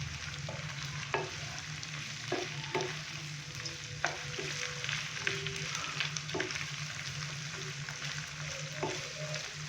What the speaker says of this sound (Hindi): तो अभी मैं इसके अंदर चिकन डालूंगा। चिकन डालने के बाद हम अच्छे से इसको मिक्स करेंगे।